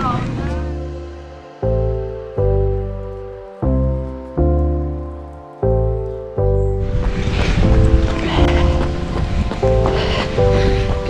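Heavy, unforecast rain pouring down outdoors during a marathon training run; a dense, steady hiss swells up in the second half beneath loud, plucked musical notes.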